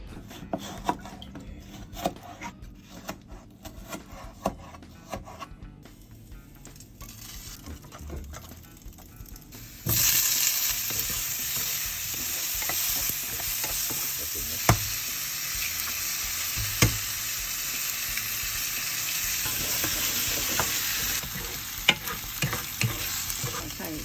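Japanese leek and tomato stir-fried with egg in a pan, quiet scraping and tapping at first, then a sudden loud hissing sizzle that continues steadily with repeated spatula scrapes and knocks.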